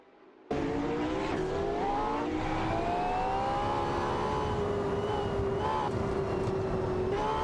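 Ferrari LaFerrari and McLaren supercars race in a driving video game, their engines holding a loud, steady high-revving whine with shifting pitch and faint tire noise, close and continuous throughout.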